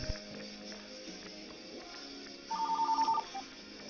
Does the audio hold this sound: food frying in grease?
no